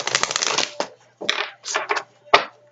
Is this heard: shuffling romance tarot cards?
yes